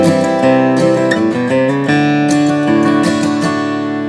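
A fast, busy bluegrass lick in D climbing chromatically step by step through close notes, bright picked acoustic string tones played steadily without pause or talking.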